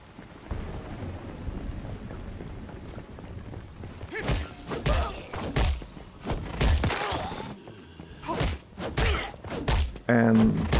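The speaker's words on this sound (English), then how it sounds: "The thumping sound on that kill is epic." Heavy thumping impacts from melee kill hits in the video game Once Human, several loud, close thuds in an irregular sequence amid wind-like rushing and game noise.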